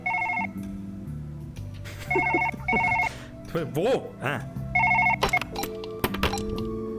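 A telephone rings inside the Surgeon Simulator VR video game, sounding in repeated bursts of bright electronic ringing under excited talk and clattering hand movements.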